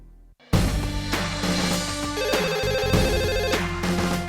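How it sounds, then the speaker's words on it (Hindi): A telephone rings repeatedly while a call is placed to a police station, with loud electronic ringing bursts in a steady pattern after a brief quiet start. "1 मिनट में पुलिस को फोन लगाता हूँ"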